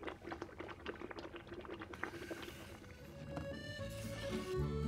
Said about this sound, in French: Dans la marmite, ça fait des bulles, des blips, des blops.